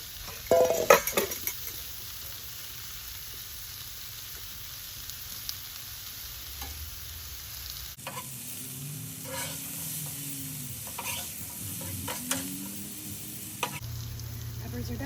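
Mushrooms stir-fry on a flat Blackstone griddle outdoors, giving a quiet steady sizzle broken by scraping spatula strokes and occasional metal taps, with a shift partway through to a busier, louder patch of frying and clatter.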